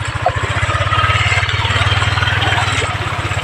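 A motorcycle engine idles nearby with an even, rapid low chugging pulse, loud and steady throughout with no voices over it.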